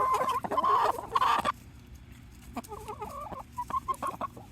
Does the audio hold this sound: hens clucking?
yes